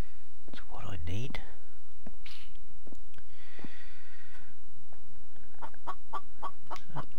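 Chicken clucking in the video game The Infected: scattered short clucks and rustles, with a sharp burst early on and a quick run of clucks near the end, under a quiet game ambience.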